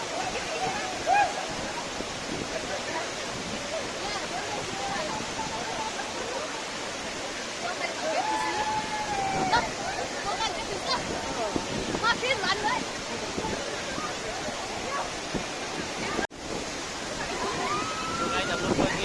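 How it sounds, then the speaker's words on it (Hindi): A waterfall in Nepal roars with a steady, broad rushing of falling water heard close by, mixed with gusting wind and a faint voice now and then. "यहाँ पे झरना है"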